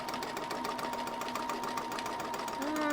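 A domestic sewing machine doing free-motion quilting on fabric runs at a steady, fast, even stitch rhythm, close and continuous throughout, with its motor whine pitching up slightly at the end.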